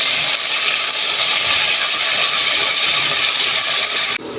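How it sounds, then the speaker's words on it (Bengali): Oil heats in a frying pan on the stove, a steady loud hiss and sizzle that runs without a break, then drops suddenly near the end. "সেই ফ্রাই প্যানের উপরেই আমি তেল দিয়ে গরম করে নিয়ে দেখাই"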